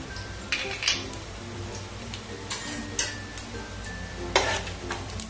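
Cumin, coriander and fennel seeds sizzle in hot oil, a soft steady crackle broken by several sharp clinks and scrapes of a spoon against the pan, near and with no voices.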